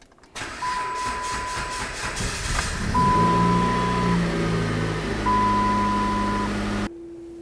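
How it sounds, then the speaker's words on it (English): A 2007-2012 Dodge Caliber engine cranks briefly, catches and settles into a steady idle, with a whining belt-driven tone from a new serpentine belt tensioner, then shuts off abruptly. "go ahead and start up the car for maybe 5 or even 10 seconds"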